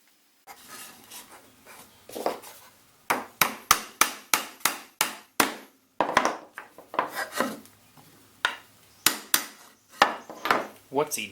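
Hammer blows drive 4-penny finish nails into wood, a close, rhythmic series of sharp knocks in quick bursts with brief pauses between groups, with no talking over them.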